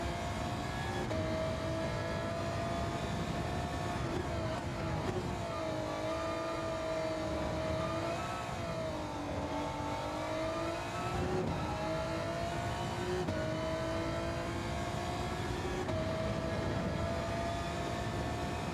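Race car engine in a racing video game, droning continuously at high revs with pitch dipping and rising as the throttle eases and reopens, loud and steady throughout with no speech.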